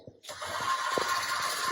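An electric pasta machine starts up and runs with a steady mechanical whir and hum, close by, after a short quiet moment at the start.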